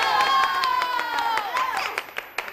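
Applause from a live show audience, clapping that starts dense and thins into scattered sharp claps, mixed with musical tones and voices.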